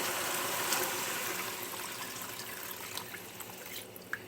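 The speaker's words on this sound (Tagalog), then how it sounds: "Lagyan na po natin siya ng tubig." Water splashes and trickles steadily into a cooking pot holding chicken for tinola, a soft continuous pour that thins toward the end with a few drips.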